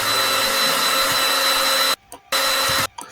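In the Pencil Sharpening Simulator video game, a drill grinds steadily at a pencil with a loud, continuous whir that cuts off abruptly twice near the end.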